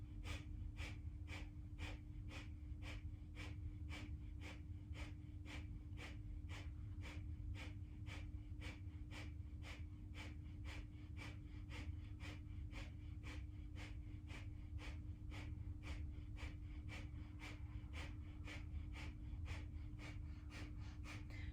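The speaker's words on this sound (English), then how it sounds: "continue the breath of fire here" Rapid, steady rhythmic nasal pumping of breath of fire in a kundalini yoga practice, with a sharp regular pulse of breaths continuing evenly throughout, close and alone without talk.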